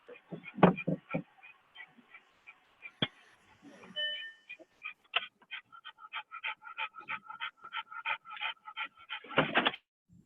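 A dog pants and whimpers close by in a quiet room, quick breathy huffs followed by a run of high, repeated whines that rise and fall in short bursts.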